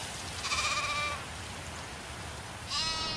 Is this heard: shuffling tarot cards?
no